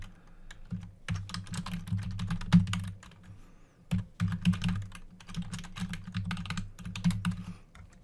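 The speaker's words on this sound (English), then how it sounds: "I'm just going to type in two email addresses" Computer keyboard typing in quick bursts of close, crisp key clicks, pausing briefly around the middle before resuming, with no talking.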